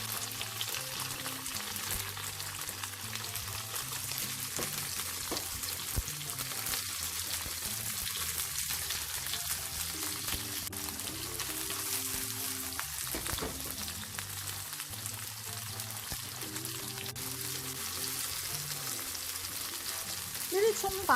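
Scallion whites fry in a pan for pan-fried tofu with soy sauce, a steady close sizzle and crackle running the whole time with occasional stirring scrapes.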